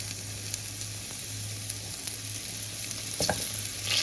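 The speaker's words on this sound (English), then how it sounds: "I am now going to be putting my mushrooms into the pan to saute" Rinsed and dried mushrooms saute in a pan with a steady, close frying sizzle under a low hum, broken by a few light clicks of stirring and no speech.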